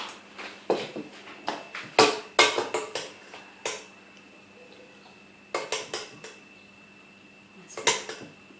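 Drained penne pasta dished up into big bowls: clattering dishes and scraping, knocking utensils come in irregular close bursts, go quiet for a couple of seconds, then clink again.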